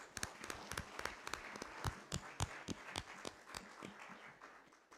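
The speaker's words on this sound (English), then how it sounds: "and a round of applause to them" Faint, sparse applause from a small audience at a book launch, scattered claps at an irregular rhythm, soft and distant in the room.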